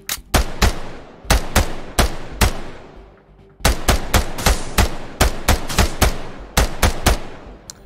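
Gunfire in the tactical shooter Ground Branch: sharp, loud single shots and quick bursts, about a dozen cracks split into two clusters with a short pause between, heard alone and close.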